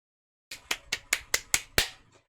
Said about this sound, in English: I hope my clapping was picked up